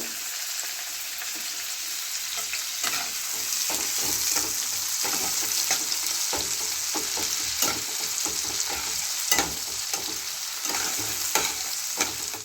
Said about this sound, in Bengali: দুটো পেঁয়াজ এখানে দিয়ে দিলাম পেঁয়াজগুলোকে একটু লাল লাল করে ভেজে নেব